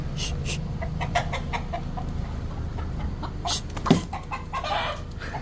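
Chicken clucking outdoors beside a parked car, a series of short nearby clucks over steady background noise, with one sharper call near the middle.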